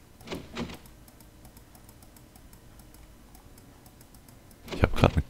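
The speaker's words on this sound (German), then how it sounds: "Ah, wenn ich darauf klicke, kommt ein Klackgeräusch." Clacking clicks in the Anvil of Dawn game, a pair of sharp clacks at the start and a tighter cluster of loud clacks near the end, separated by a quiet stretch with faint regular ticking.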